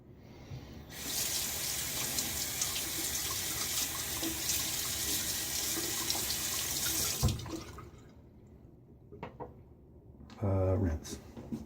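A tap runs steadily for about six seconds as a face is rinsed after a shave with a Parker Variant razor, then the flow stops, leaving a few drips and splashes and a short burst of sound at the end.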